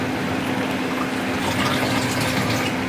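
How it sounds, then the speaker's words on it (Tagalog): Water poured into a cooking pot of spinach soup with miswa, a steady broadband splashing and filling rush that runs continuously and fairly loud, with no voices. "Lalagyan natin ito ng konting tubig"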